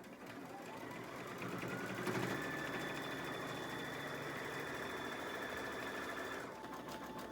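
An embroidery machine stitches a medical mask at fast speed, giving a steady, fine mechanical whir with a rapid regular needle rhythm, moderately close and running on without pause.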